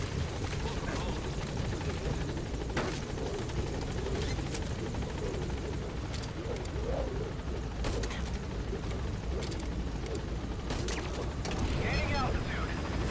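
A helicopter taking off in the Metal Gear video game, a continuous rotor thrum and engine drone with scattered sharp bursts and clanks, a voice speaking briefly over it.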